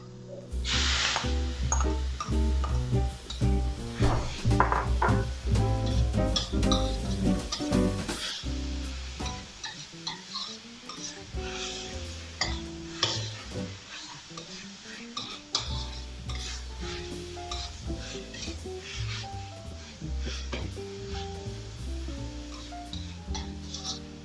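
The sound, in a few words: bacon frying in oil with onions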